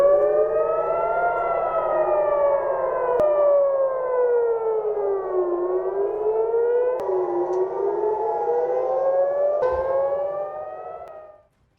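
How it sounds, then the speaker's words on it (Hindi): A civil defense air raid warning siren wails over Tel Aviv during wartime, its pitch rising and falling in long slow sweeps, loud and continuous before cutting off abruptly at the end. "ये तेल अवीव है जहां पर आप सायरन सुन लीजिए, ये खतरे का सायरन है।"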